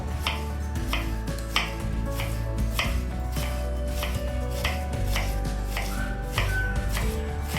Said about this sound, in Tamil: ரெண்டுத்தையும் எடுத்துகிட்டு சின்ன சின்ன ஸ்லைஸாக கட் பண்ணுறோம்.